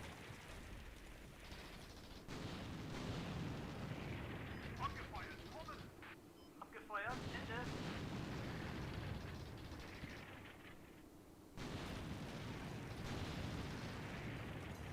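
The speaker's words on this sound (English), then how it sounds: "I can hear the arty coming down on Geneva." Artillery fire in the Combat Mission war game: a dull, heavy rumble of distant shelling that swells and drops in long blocks, with brief crackling bursts mixed in under the steady din.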